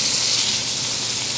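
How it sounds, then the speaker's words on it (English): Prime rib pieces searing in a hot pan give a steady, close sizzle, a dense continuous hiss that holds level throughout with no voices over it. "our meat is nice and seared up"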